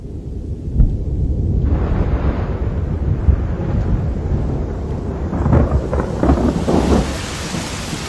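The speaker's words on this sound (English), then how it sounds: "On the Masai Mara, the storms of October approach." A thunderstorm on the Masai Mara in October: steady heavy rain with rolling thunder and gusting wind, loud and continuous throughout, with no voices.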